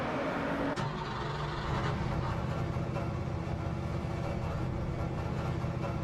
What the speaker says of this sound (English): the car noise is a little too loud